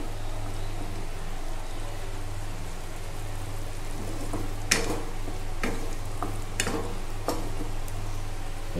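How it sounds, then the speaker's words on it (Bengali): Spices fried in a pan with a splash of water, stirred so they don't burn; a steady soft sizzle with a low hum beneath, broken by several sharp scraping clicks of the spoon against the pan. "জল না দিলে মশলাটা পুড়ে যাবে, তাই একটু জল দিয়ে কষিয়ে নিলাম।"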